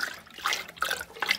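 A spoon stirs a mixture in very hot water, giving a wet, swishing slosh with repeated strokes, close and moderately loud with no talking.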